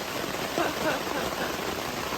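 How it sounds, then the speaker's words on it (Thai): Heavy rain pours down at a campsite in Khao Yai, a dense, steady hiss of falling water that stays even and fairly close for the whole short stretch. "ฝนเทลงมาจ้า ฝนตก"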